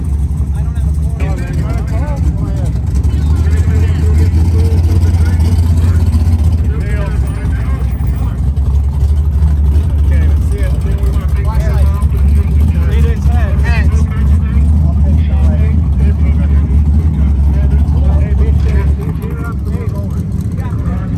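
A Galaxy Camaro race car idles at a no-prep drag race on a cold night, its engine a loud, steady low rumble that holds for about twenty seconds before easing slightly at the end.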